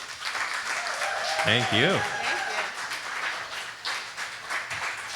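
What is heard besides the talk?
audience applause after a song performance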